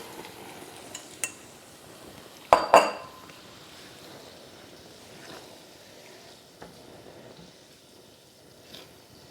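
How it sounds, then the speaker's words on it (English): Shrimp tipped into a pot of swollen orzo that has absorbed almost all its liquid: two loud clattering knocks close together, with a few lighter clinks before and after over a quiet background. "We are now going to add in the shrimp."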